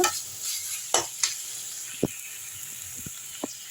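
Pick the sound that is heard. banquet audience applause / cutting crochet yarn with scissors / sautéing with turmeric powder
sautéing with turmeric powder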